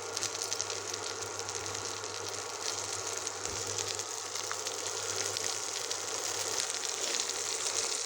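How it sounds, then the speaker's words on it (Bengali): Kunti eggplant frying in hot oil in a wok, giving a steady, even sizzle and crackle that runs unbroken throughout with no voices. "এবার এই কুন্টি বেগুনটাকে খুব ভালো মতো ব্রাউন কালার করে ভেজে নিব।"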